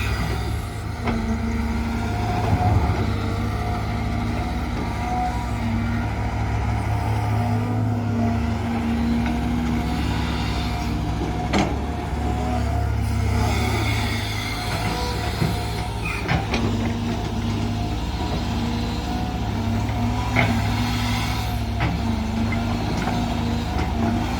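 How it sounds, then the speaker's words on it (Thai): A four-cylinder engine idles and runs with a loud, steady low thudding rumble, close and unbroken throughout with faint mechanical rattles. "สียงมันดังทุดทุดทุดทุดทุดทุดครับ เครื่องสี่สูบ รุ่นนี้"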